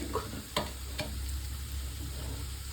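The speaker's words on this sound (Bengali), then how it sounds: "একসাথে ভালোভাবে নেড়েছি ব্রেডগুলো একটু ছ্যাঁকার জন্য বসিয়ে দিয়েছি একটু গরম হোক" Bread slices searing in a hot pan after being tossed with black pepper: a steady frying sizzle with a few sharp scrapes and clacks of a spatula early on.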